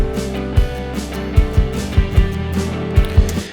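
A GarageBand programmed drum kit beat thumps along steadily, punchy kick hits and light cymbal ticks over a sustained bass-heavy backing.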